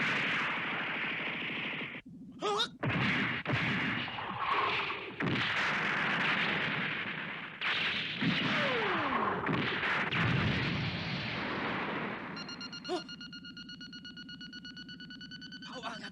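Loud, chaotic battle sounds from a Mobile Suit Gundam movie, with a ship's guns firing amid blasts and whooshes, followed by a steadier electronic tone toward the end.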